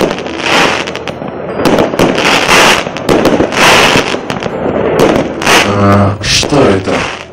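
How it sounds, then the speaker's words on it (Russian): Fireworks crackle and burst repeatedly in dense, loud volleys, with voices talking underneath. "Это фейерверки. Их обычно запускают в это время."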